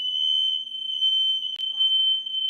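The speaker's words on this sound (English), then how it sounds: "Did you just hear my fire alarm go off?" A household fire alarm sounds continuously, a loud, piercing, steady electronic tone with a brief faint voice partway through.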